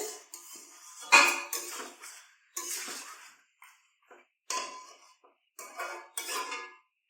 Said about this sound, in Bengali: এবার আমি গরম মশলা একটু বেটে নেবো